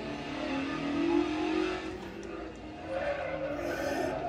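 A race car's engine revs and accelerates in a VR racing simulator on a motion platform, a steady mid-level drone that swells and dips over a few seconds, with a brief skid-like hiss near the end.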